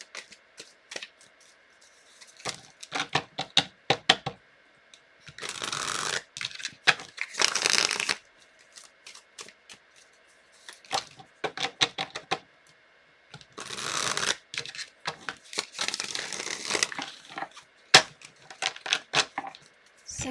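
Tarot cards are shuffled close up in repeated bursts of crisp riffling and slapping, separated by brief pauses, with no talking.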